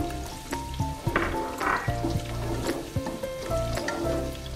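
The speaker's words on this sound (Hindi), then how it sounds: "प्याज डाल देंगे और प्याज को हम फ्राई करेंगे।" Chopped onion with bay leaves sizzling in hot oil for an Afghani pulao, a steady frying hiss with scattered crackles and pops beneath a low background hum, with no talking.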